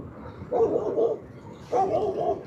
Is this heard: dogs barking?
yes